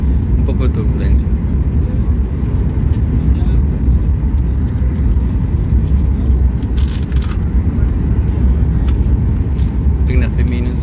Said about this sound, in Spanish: estamos a punto de aterrizar, o sea que hemos llegado a la ciudad de Guadalajara. Un poco de turbulencia.